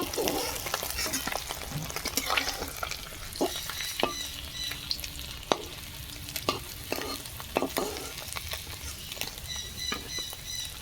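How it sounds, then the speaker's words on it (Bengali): Fish frying in hot oil in a village outdoor kitchen, a steady crackling sizzle with scattered sharp pops and stirring scrapes, moderately loud and continuous with no talking. "বাকি মাছগুলো এইভাবে আমি ভেজে নেব"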